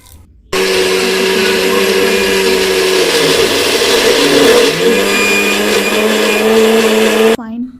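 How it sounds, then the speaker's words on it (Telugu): A mixer grinder whirs loudly and steadily grinding rice, black gram and fenugreek for idli batter, its pitch dipping briefly midway as the load shifts, then cutting off abruptly near the end. "పేస్ట్ లాగా మిక్సీ పట్టుకోవాలి"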